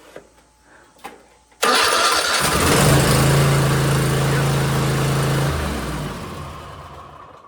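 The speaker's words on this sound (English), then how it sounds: "Let's go ahead and see if it cranks though." A Cub Cadet Ultima ZT1 zero-turn lawnmower engine cranks briefly and catches, then settles into a loud, steady idle close by for several seconds before easing slightly, with no talk over it.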